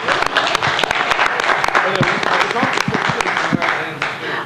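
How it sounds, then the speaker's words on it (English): Members and guests in a city council chamber applaud loudly during council announcements, dense sustained clapping with individual sharp claps standing out and voices mixed in underneath. "please give Mr. Sanderson a grand applause for being here today."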